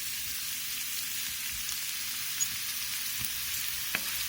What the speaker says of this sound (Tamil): சேர்த்துட்டு வெங்காயம் நல்லா பொன்னிறம் ஆகிற வரைக்கும் வதக்கிக்கோங்க